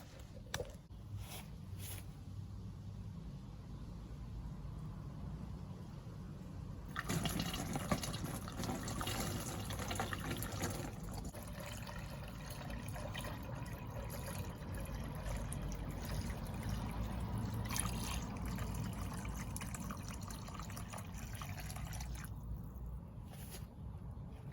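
Pure coolant and still water poured into a measuring container while servicing a 1990 Volvo 240, a faint trickling and gurgling liquid flow with small splashy drips, quiet and close, no talk.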